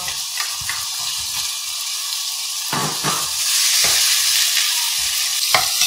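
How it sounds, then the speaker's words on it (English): Onions for a Keralan king prawn curry sizzle loudly in a hot pan, a continuous close hiss with occasional stirring scrapes and light crackles, and no one speaking. "to that, we're going to add the onions"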